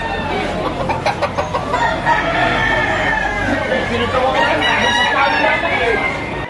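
Young roosters crowing and clucking at a fowl auction, several birds calling in repeated bursts close by, with people talking throughout.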